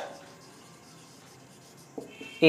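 Chalk or marker scratches faintly on a classroom board during a Bengali grammar lesson, a soft continuous writing sound with brief louder taps near the end.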